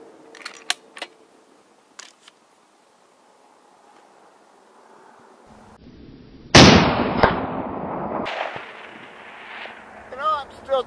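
A Howa .308 rifle fires a single loud, sharp shot at a 600-yard target, and the blast rings on in a decaying tail. A few faint clicks and near-silence come before it.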